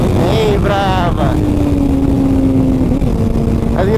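A Yamaha FZ6 S2 motorcycle engine revs hard and climbs in pitch through the gears, loud and close, with a steady rising drone across gear changes while a rider talks briefly over it.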